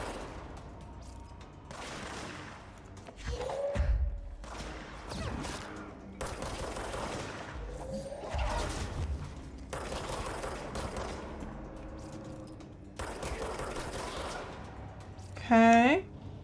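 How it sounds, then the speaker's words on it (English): Explosions in a video game burst out in repeated broad bangs roughly every two seconds, each swelling and decaying over a steady background, with a voice talking between them and a bright sweeping chirp near the end. "Explosions are pretty as long as I'm not caught up in them."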